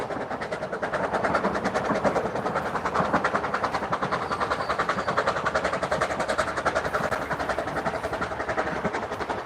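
A narrow-gauge steam locomotive on the Vale of Rheidol railway passes close by, working hard with a steady, rapid chuffing and rolling wheel clatter that stays loud and even throughout, no voices heard.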